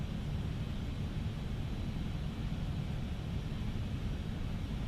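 Engine noise of an FSLabs A321neo airliner in a flight simulator: a steady, broad, even roar with a deep low-end rumble that holds unchanged throughout, with no voices.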